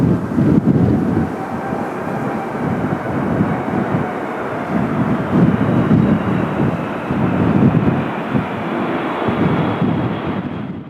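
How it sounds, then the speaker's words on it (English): A cargo Boeing 747-8F jet of Atlas Air landing in a strong crosswind with winds near 100 km/h: a steady, loud roaring rumble of engines and buffeting wind noise that holds throughout with no speech. "With winds reaching 100 kilometers per hour, the Atlas Air 747-8F crabs into the crosswind on final before straightening for landing"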